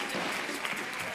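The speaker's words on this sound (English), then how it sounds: "Let's clap those hands." Crowd applause at a women's skateboarding final at SLS Las Vegas, a steady, dense wash of clapping sustained throughout, moderately loud and fairly distant, with no clear talk over it.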